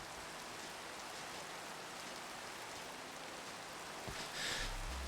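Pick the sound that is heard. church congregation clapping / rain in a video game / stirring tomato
rain in a video game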